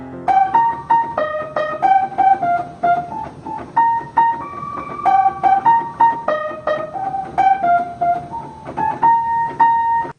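A piano plays a lively melody of repeated notes and chords, clear and close, with some notes sounding sour and off-pitch against each other.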